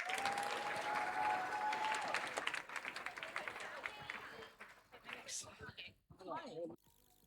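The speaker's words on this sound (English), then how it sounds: "give me a warm round of applause for our ACIS Chinese" An audience at a school celebration applauds Chinese dance performers with dense, steady clapping. It carries on for several seconds, then thins out and fades as a voice speaks over it near the end.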